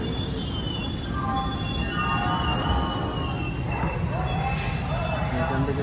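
Kulik Express pulling out of Howrah station, heard from on board as a loud, steady rumble of wheels on rails with squealing metallic tones drifting through the sound.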